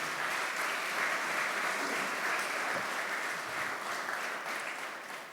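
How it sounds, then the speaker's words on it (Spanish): A church congregation applauds steadily for about five seconds, a dense, even wash of many hands clapping that fades slightly toward the end, with no voices over it. "Dele un fuerte aplauso al Señor."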